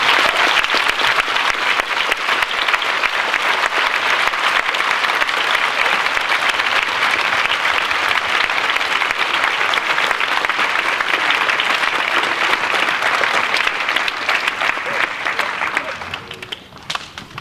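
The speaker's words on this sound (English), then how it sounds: "Please, can we give our very happy and fabulous Year 6 a huge round of applause" A school audience gives Year 6 pupils a huge round of applause, loud dense clapping that holds steady for about fifteen seconds before tapering off quickly near the end.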